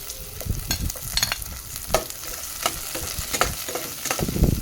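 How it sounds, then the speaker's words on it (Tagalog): Garlic, ginger and onions sauté in hot cooking oil for a chicken soup, with a steady sizzle broken by repeated scraping stirs of a utensil against the pan, close and fairly loud, with no voices. "igisa-gisa natin hanggang sa umamoy yung aroma ng mga sibuyas, bawang at luya"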